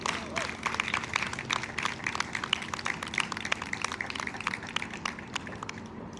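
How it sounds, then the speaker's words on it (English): An audience at a victims and survivors honoring event applauds with dense, steady clapping from many hands. It carries on for several seconds at moderate loudness as people approach the stage. "Please give them a round of applause as they approach the stage."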